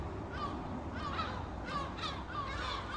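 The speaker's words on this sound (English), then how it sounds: "we now have got these sounds of these seagulls" Seagull calls set as an ambient sound effect in a Foundry VTT tabletop session, several harsh cawing cries repeating at a steady level over a constant background wash, with no talk.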